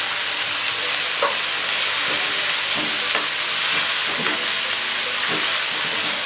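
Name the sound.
vegetables and chicken frying uncovered for fried rice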